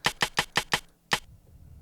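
A second Trigger2 snare sample layered into a drum loop gives five bright, tight snaps in an even quick row, then a short gap and one final hit, crisp and upfront.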